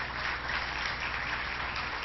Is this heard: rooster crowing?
no